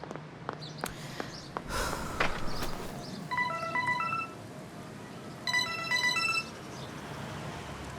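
Telephone ringing in a domestic drama scene: two short bursts of an electronic ring tone with tonal chirping patterns, moderately loud over a background of room noise and rustling, no speech.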